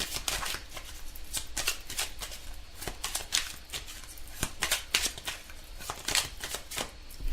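Tarot cards being shuffled by hand, a steady run of crisp riffling and slapping bursts repeating over several seconds, close and alone with no talk.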